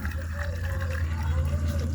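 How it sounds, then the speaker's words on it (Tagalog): Water is poured into a bottle of pesticide to dissolve leftover residue, a brief close gurgling fill over a low steady hum. "Kaya, nilagyan ko ulit siya ng tubig."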